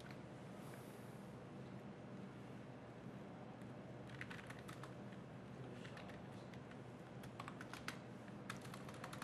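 Keystrokes on a computer keyboard as commands are typed into a terminal, appearing in quick irregular bursts of soft clicks from about four seconds on over a steady background hum, with no talking.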